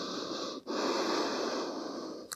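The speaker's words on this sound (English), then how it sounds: "Deep inhales and exhales." Deep, steady breathing during a yoga class in child's pose: a long hushed airflow, a brief pause near half a second, then another sustained breath, close and fairly loud with no talk.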